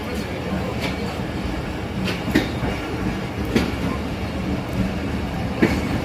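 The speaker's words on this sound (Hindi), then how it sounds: "तो देखें ट्रेन मूव हो गई है, तो हवेलियाँ के लिए ये मूव हो चुकी है।" A train pulls out of a station in a steady low rumble, with periodic wheel clacks and small metallic knocks as the cars roll past nearby.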